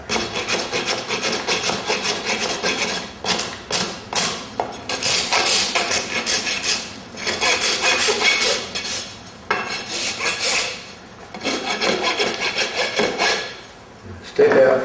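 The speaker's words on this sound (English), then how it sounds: "so I'll just do it with a rasp." A rasp files down a horse's hoof during trimming, a run of loud rasping strokes close up with brief pauses between passes.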